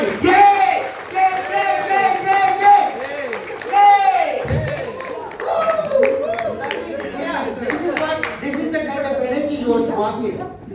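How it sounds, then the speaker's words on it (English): Audience clapping and cheering for an honored guest, with loud crowd whoops and shouts layered over steady applause throughout. "give a round of applause for Balagopal sir"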